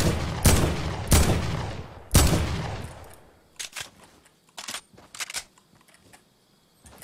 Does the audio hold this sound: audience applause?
no